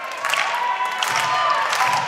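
Crowd at an indoor independent wrestling title match cheers and rallies, a steady dense roar of voices with scattered shouts throughout.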